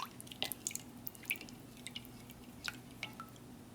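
Tropical punch drink mix from a British 24-hour ration is stirred, making faint wet swishes and light, sparse taps close by and alone without speech.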